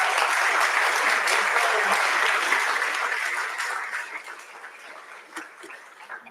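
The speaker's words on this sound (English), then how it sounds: "Can I get a round of applause?" An audience at a Kentucky proclamation event for Childhood Cancer Awareness Month gives a full round of applause that fades out over a few seconds into scattered claps.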